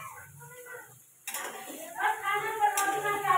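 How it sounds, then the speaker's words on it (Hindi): Chicken fries in oil and gets stirred in a pan, and an irregular clatter of utensil scrapes and sizzle starts abruptly after a quieter opening with faint voice-like sounds. "ये मैंने चिकन डाल दिया है इसमें, और इसको हम अच्छी तरीके से तेल में भून लेंगे"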